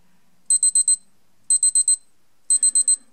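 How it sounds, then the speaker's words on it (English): A Seiko Arnie SNJ025 Prospex solar watch alarm sounds in three bursts of four rapid, high-pitched electronic beeps, spaced about a second apart, close and loud with silence between. "let's have a little listen to how loud the alarm is"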